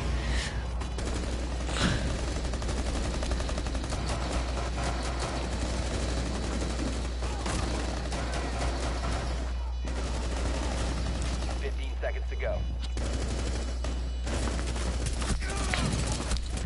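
Video game gunfire crackles in bursts through a tactical bomb-defusal match, dense and continuous at moderate loudness, with brief shouts from a player mixed in.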